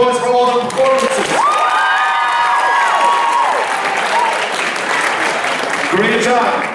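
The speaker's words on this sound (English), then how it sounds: "I want to give everybody a big round of applause for all the performances." Audience at a high school talent show applauds and cheers for the performances, with whoops and shouts over sustained clapping while a voice talks through a microphone.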